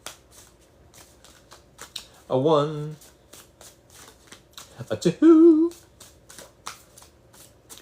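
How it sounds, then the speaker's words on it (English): Tarot cards are being shuffled in several quick riffling bursts, with a longer run near 2.5 seconds and another near 5.3 seconds, each right beside a short spoken count. "Alright, 3 more shuffles."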